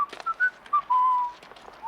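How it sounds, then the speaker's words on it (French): A person whistles a short tune of several clear notes, mostly brief with one longer held tone, close and alone, in a 1935 espionage thriller scene. "Ah, arrêtez de siffler."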